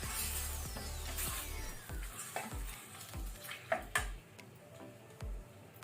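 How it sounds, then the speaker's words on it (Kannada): Prawn curry ingredients fry in oil over a medium flame with a steady sizzle, while a utensil stirs them in repeated clinks and scrapes at an uneven rhythm. "ಈಗ ಇದನ್ನು ಸ್ವಲ್ಪ ಮೀಡಿಯಂ ಫ್ಲೇಮ್ ಅಲ್ಲಿ ನಾವು ಫ್ರೈ ಮಾಡ್ಕೊಳ್ಳುವ ಎಣ್ಣೆಯಲ್ಲಿ"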